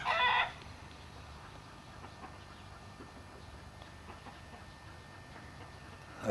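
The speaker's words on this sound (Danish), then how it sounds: "Det er nogle sjove langbenede kyllinger," Long-legged chickens cluck at a farm, a brief burst of louder calling at the start followed by faint, sparse clucks over low background noise.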